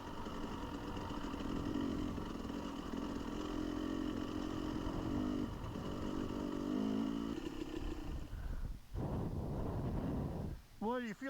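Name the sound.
wind on a motorcycle ride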